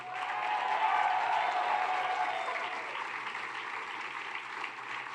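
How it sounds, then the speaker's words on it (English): A crowd applauding steadily, dense clapping that swells early then gradually eases off while continuing to the end. "Let's give a round of applause to Vershi and the Sunrise Movement for their"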